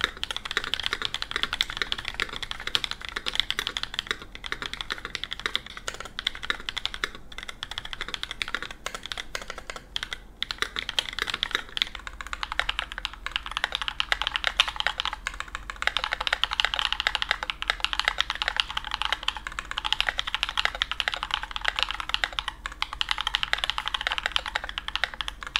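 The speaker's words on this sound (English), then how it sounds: "This keyboard should sound better. But will it be though?" Typing on a modded Idabao ID80 V2 mechanical keyboard produces a continuous close run of clacky keystrokes with an uneven rhythm, briefly thinning near the middle before picking back up.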